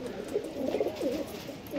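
High-flyer pigeons coo in a low, rolling series of soft, throaty calls, close by and steady with no talk over them.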